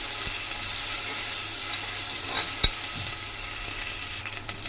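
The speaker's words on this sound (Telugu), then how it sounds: "ఈ అల్లం వెల్లుల్లి పేస్ట్ పచ్చి వాసన పోయే వరకు మేము ఫ్రై చేసుకుందాం." Ginger garlic paste fries in a pan for a home-style mutton curry, giving a faint, steady sizzle with a spoon occasionally scraping and stirring, with no voices.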